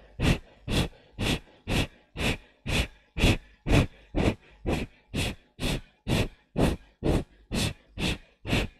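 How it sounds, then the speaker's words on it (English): Kapalabhati breathing in a Bikram hot yoga class: a steady train of about sixteen sharp, forceful nasal exhales, evenly spaced roughly twice per second, close and loud with no talking. "Kapalabhati breathing"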